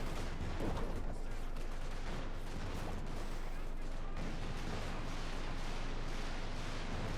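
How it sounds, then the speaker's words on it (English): Stuka rocket barrages in Company of Heroes 2 rumble as dense, continuous explosive fire and artillery blasts, loud and unbroken throughout a busy battle scene. "Stukas was firing here"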